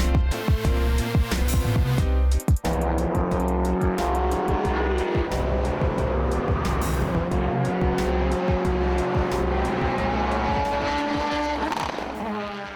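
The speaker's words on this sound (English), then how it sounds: "the first chance for the High Octane Racing GTR to hit the track for a practice" A Nissan GT-R race car at a track practice day roars past with loud high-revving engine, sharp gear changes and squealing tyres, joined by other engines lapping, close and continuous throughout.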